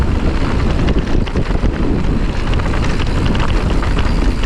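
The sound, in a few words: wind blowing on a coastal ride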